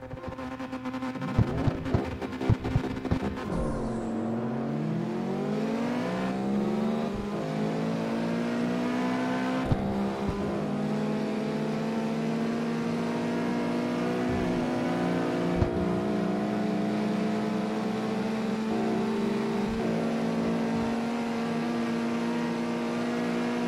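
A race car engine in the CarX Street driving game climbs and holds a high, loud rev through gear changes, a steady droning whine near and continuous.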